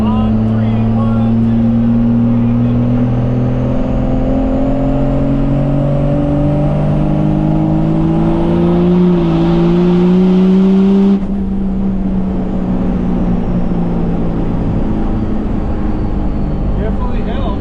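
A first-generation Cummins diesel truck on nitrous accelerates hard in a street run against a Honda Civic, its loud engine drone climbing steadily in pitch, then dropping abruptly as it shifts and pulls on.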